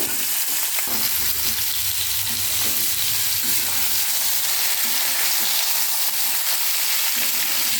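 Vegetables fry loudly in hot oil, a dense continuous sizzle with occasional stirring scrapes.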